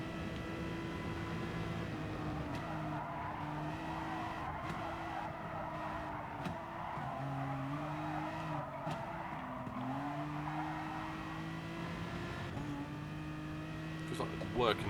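Gr.3 race car in a racing game at Dragon Trail Gardens, its engine note stepping up and down through repeated gear shifts under heavy late braking, with a steady continuous drone and brief tire squeal near the end.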